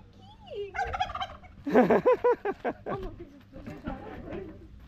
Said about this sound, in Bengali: এটা হচ্ছে টার্কি।